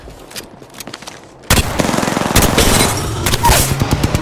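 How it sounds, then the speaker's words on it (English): Gunfire in Apex Legends, ranked play on the Olympus map, starts abruptly after a quiet stretch and becomes a loud, sustained burst of rapid automatic shots with nothing else heard. "Getting shot at."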